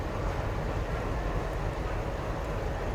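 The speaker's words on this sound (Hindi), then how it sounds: "अभी प्लेटफॉर्म नंबर 2 पर अराइवल हो रहा है गोवा एक्सप्रेस का" The Goa Express pulling into platform 2 of a railway station at night: a steady, loud, broadband rumble of rolling wheels and carriages, with no pauses.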